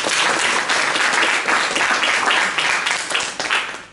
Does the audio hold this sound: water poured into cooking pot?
no